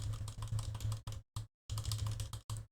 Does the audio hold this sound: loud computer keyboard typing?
yes